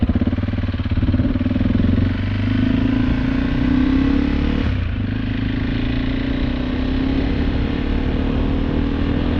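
A KTM 390 Adventure motorcycle engine drones steadily at high revs while riding, a loud close buzz with a brief dip around a gear change before holding again.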